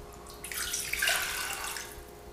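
Water, 1.5 cups, pours in a steady stream into a pot for cooking rice, swelling briefly then continuing at a moderate level, close by with no talking.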